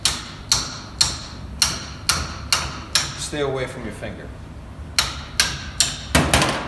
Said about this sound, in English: using the side of the hammer to hit it counterclockwise.